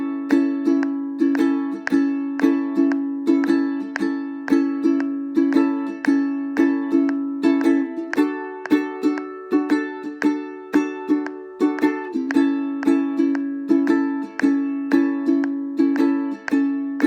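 Strummed acoustic guitar chords for a song at a steady 115 beats per minute, rhythmic and up close, repeating the chord pattern throughout without any voices.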